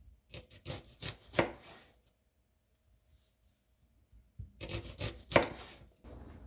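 A knife thinly slicing onions on a cutting board, with two bursts of quick, rhythmic close-up cuts separated by a couple of seconds of near silence.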